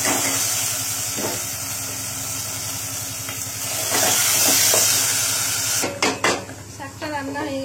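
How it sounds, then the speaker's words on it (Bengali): Leafy greens are tossed into hot oil with tempering spices, setting off a loud, steady hiss of steam and sizzle over a low background hum, followed near the end by clattering of a utensil against the pan. "ফোড়নটা ভাজানো হয়ে গেছে, এবার আমি শাকটা দিই।"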